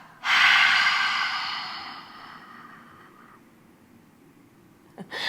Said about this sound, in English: and a long half breath out.